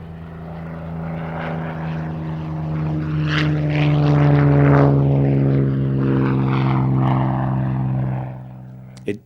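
A Supermarine Spitfire, operated by the Historic Aircraft Collection at Duxford, flies by at an air fete, its propeller engine droning loud and steady, swelling toward the middle before fading.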